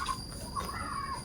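Chickens cluck in a short, close burst of throaty calls over steady farmyard background noise, with no voices.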